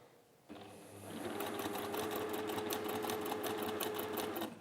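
A domestic sewing machine stitches fabric for a crown pincushion, starting with a quiet hum and then running in a fast, steady, close mechanical whir with rapid needle ticks, no voice over it.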